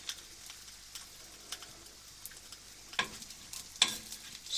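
Part-boiled vegetables frying in olive oil give a quiet, steady sizzle, with a couple of sharper crackles and the scrape of stirring breaking through near the end.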